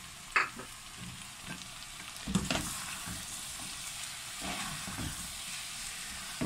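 Paratha filling of chillies, chopped coriander and mint with garam masala being stirred and mixed, with a few distinct spoon scrapes and clatters over a soft background hiss, no talking.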